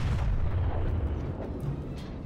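Naval gunfire from the Japanese Tier VI cruiser Aoba in World of Warships, a dense, sustained rumbling roar of heavy guns with low booming energy throughout, loud and close.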